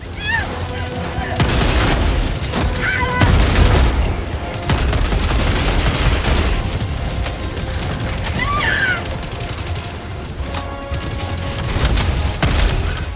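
Heavy, dense gunfire and explosions from combat in Helldivers 2, loud and continuous with bursts of shots layered over booming impacts, with talk over the action.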